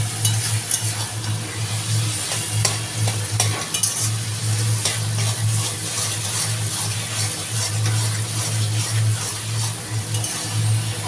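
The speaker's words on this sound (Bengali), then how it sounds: "তো এখন আমার ঠাম্মা ভাজছে।" Hilsa fish heads with taro leaves fry in a pan, making a loud, continuous sizzle with scraping stir sounds over a steady low hum.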